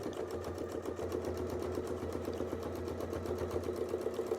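A sewing machine runs steadily, stitching lines across fabric with a fast, even mechanical chatter that holds at a constant level, close up, with no talking.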